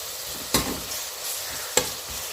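Onions sautéing in a pan for ghee rice, cooked only until glassy: a steady soft sizzle with two sharp stirring scrapes of the spatula, close and moderately quiet, no voices.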